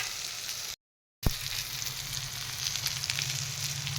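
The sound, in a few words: stirring frying eggplant in a pan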